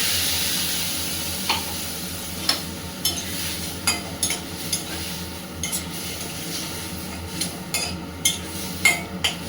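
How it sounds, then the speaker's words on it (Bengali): A paste of green chilli and black cumin fries in a pan, with a steady sizzle beneath repeated sharp clicks and scrapes of a metal spatula stirring against the pan. "আর এটাকে একটু ভালো করে নেড়ে টেড়ে নিয়ে"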